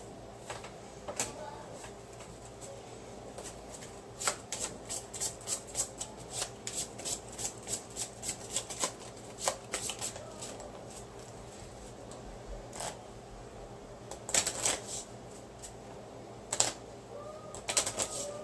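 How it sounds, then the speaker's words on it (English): Board game cards are shuffled in a live tabletop game session, giving repeated rapid riffling bursts and card slaps through the clip, some louder near the end, over a quiet room with no talk. "Shuffle the named Wonders deck and draw wonder cards equal to the number of players plus 2."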